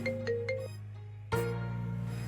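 An incoming call rings on a phone as a repeating electronic ringtone melody, fairly faint and close, with a brief pause before the tune starts again, no talking.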